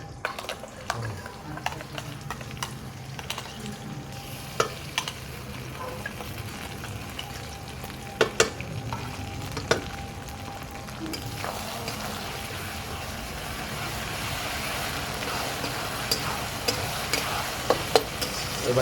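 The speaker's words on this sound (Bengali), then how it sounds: "এবার সব মশলাগুলো দিয়ে ভালো করে কষিয়ে নেব" A ginger, cumin and chilli spice paste being stir-fried in a pan, a continuous close sizzle broken by repeated stirring scrapes and clinks that thicken into a denser hiss toward the end.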